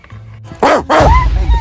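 A dog gives two loud, close barks in quick succession, followed by a brief whining yelp, with no talking.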